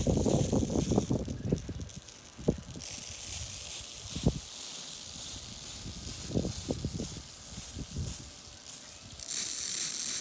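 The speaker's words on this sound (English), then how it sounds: "we'll just watch the sprinklers start popping up" Lawn sprinklers on a Rain Bird irrigation system turn on with a steady, loud hiss of spraying water, and several dull pops and thumps sound as the heads rise.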